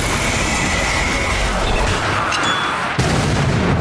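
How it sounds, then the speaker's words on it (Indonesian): A grenade blast in a zombie film: a loud, continuous rumbling roar of broadband noise, with a sharp break near the end before the rumble resumes. "Apakah ledakan itu berasal dari granat tim penyelamat yang terinfeksi?"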